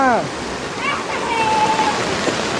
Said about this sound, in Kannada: ಜೋರು ಮಳೆ ಬರ್ತಿದೆ